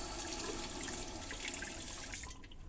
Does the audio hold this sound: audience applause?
no